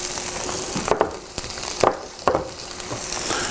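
Hard vegetables sauté in a pan for a frittata: a steady, fairly quiet sizzle with a few sharper clatters of stirring at irregular moments.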